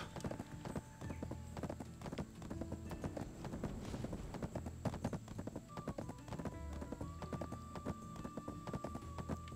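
In the video game Black Desert, horse hooves clip-clop in a quick, steady rhythm throughout, with game ambience and tonal effects underneath, at a modest, even level.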